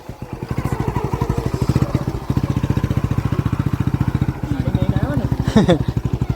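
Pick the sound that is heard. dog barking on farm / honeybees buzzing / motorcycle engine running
motorcycle engine running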